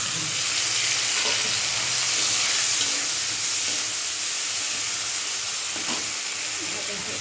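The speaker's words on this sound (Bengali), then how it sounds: "ইলিশ মাছের ডিমটা ভাজা হয়ে গেছে।" Hilsa fish roe frying in hot oil, giving a continuous dense sizzle with faint stirring noises, loud and close.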